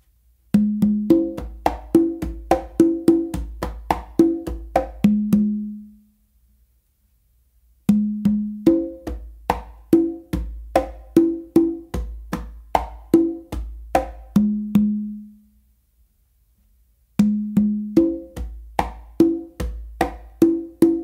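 A cha cha cha pattern is played by hand on congas, with steady rhythmic phrases of crisp slaps and resonant open tones repeated three times, separated by short pauses.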